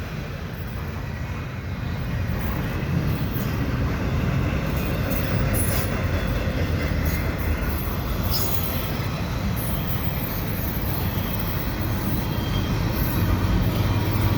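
A Canadian Pacific double-stack container freight train rolls past in winter at Dorval, a loud, steady rumble of wheels on rail with high metallic squeals breaking through now and then.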